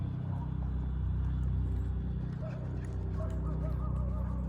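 A horse's hooves drum in a steady rapid rhythm while loping at speed in a riding arena during lead change training, fairly faint under a low background hum, with no talk.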